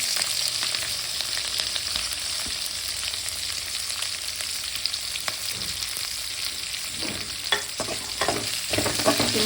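Onion and green chillies sautéing in hot oil in a pan for tomato rice, a steady close sizzle throughout with occasional stirring scrapes and clinks near the end.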